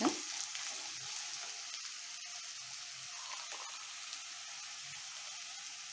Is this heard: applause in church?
no